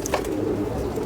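A crested pigeon cooing close by, a low soft throaty murmur lasting about a second with no talk.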